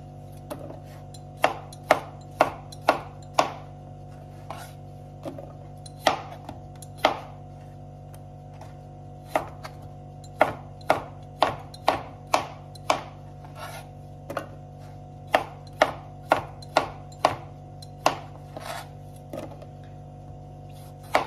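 A knife slices a small cucumber diagonally on a board, giving sharp, evenly spaced chops in irregular bursts with brief pauses, close and clear against a quiet background hum.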